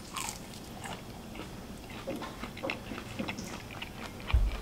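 Crunchy bites and chewing of Wendy's spicy chicken nuggets, close and fairly quiet, with irregular soft crunches spread across the moment and a sharper bite near the end.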